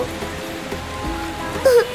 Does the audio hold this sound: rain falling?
yes